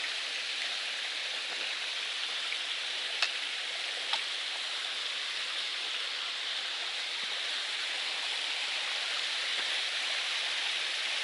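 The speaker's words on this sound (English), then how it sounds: "Here's our first waterfall." Steady rushing water from a waterfall beside a rocky, rooty mountain trail near Kinsman Mountain, a constant broadband hiss with no talking.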